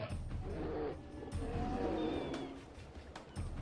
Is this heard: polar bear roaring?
yes